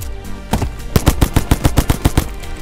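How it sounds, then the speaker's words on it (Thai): Rapid automatic gunfire from enemies in the blocky zombie survival game Zumbi Blocks 2 sounds as a loud, close burst of about a dozen evenly spaced shots with no talk over it. "มันยิงแต่เราด้วย"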